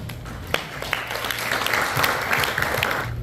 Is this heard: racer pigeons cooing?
no